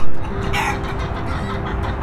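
Backyard chickens cluck and crow in a loud, steady barnyard chorus, with one hen's call rising clearly above the flock near the start.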